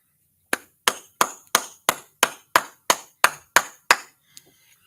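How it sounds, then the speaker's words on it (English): Sharp, evenly spaced hand claps at a religious law class, about ten loud, crisp strikes in a steady rhythm, ending with a couple of fainter taps. "All right, clap it up."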